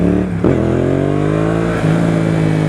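A Yamaha XSR700 ABS motorcycle pulls hard in second gear, its engine note climbing steadily in pitch after a brief blip, loud and close, with no talking.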